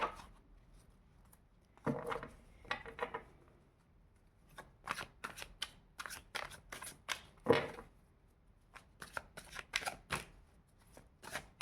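Tarot cards being shuffled in a quiet room, a run of crisp riffling bursts and soft flicks with brief pauses between them, close and fairly faint, with no voice.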